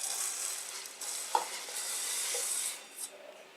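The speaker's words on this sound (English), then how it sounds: "Let's give it a stir and let it cook until it's tender." A brief stirring of pasta in a pot of boiling water, with a soft scrape and a small clink against the side over a quiet bubbling hiss.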